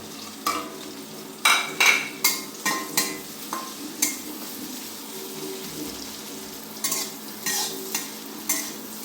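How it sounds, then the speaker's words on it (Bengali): Chopped onions with ripe green chillies frying slowly in hot oil in a pan, stirred at a steady pace; a bright crackling sizzle is punctuated by regular scraping strokes about once a second, nearby and clear, with no talking. "পেঁয়াজটা আস্তে আস্তে একটু ভেজে নেব"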